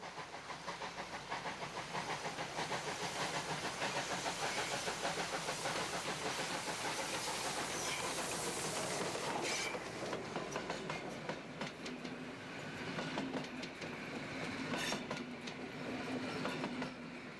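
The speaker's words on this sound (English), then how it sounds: "One of the impressive high-stepping OL-49 262 tender engines rolls briskly past, bound for Waldstein." An OL-49 2-6-2 tender steam locomotive rolls briskly past on its way to Waldstein, a steady roar of exhaust and rumbling wheels with hissing steam and clattering carriages, loud and continuous before easing slightly as it passes.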